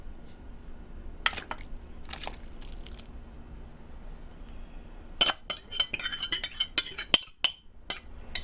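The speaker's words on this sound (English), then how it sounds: "Now I'll be adding in the meat that I fry" Fried meat is added to a pot of boiling Multani soup and stirred, a spoon clinking and scraping against the pot in short bursts, sparse at first and then quick and busy.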